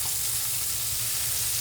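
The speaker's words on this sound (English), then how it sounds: "You hear that sizzle?" Scallops sizzling as they sear in a very hot skillet, a steady crackling hiss, close and continuous with no voices.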